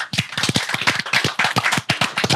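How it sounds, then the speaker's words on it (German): A live audience applauds in a cinema at the close of a 200th podcast episode: dense, steady clapping that fills the whole stretch, close and fairly loud. "Applaus"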